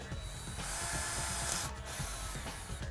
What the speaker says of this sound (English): So I'll secure it in place like this and then drill your hole.